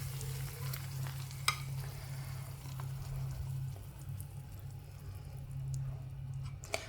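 Eggs poured into a pan of lightly fried vegetables over a low flame give a steady, close sizzle with occasional small clicks and stirs. The pan noise runs throughout.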